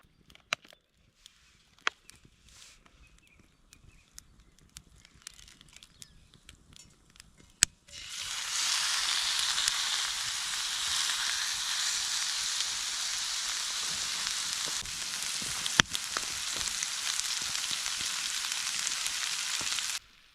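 A steak hits a hot cast iron frying pan over a pine wood fire on a small outdoor stove, bursting into loud, dense sizzling that holds steady after a quiet start with faint crackles.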